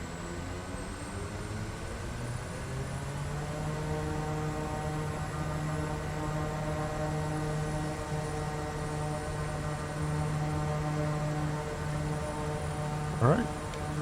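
Kodiak 100 single turboprop engine held at takeoff power in Microsoft Flight Simulator 2020, a loud steady drone with layered tonal hum that stays even throughout, plus one brief sweep near the end.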